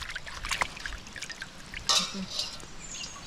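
Pieces of fish are rinsed in water, with quiet splashes and trickles and a few brighter drips and sloshes close by; someone talks over it.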